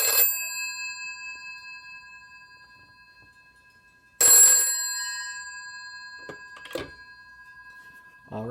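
A 1982 British Telecom Yeoman telephone's bell rings in loud, close bursts. The first burst fades out slowly, a second sharp ring comes about four seconds later, and faint handling clicks follow.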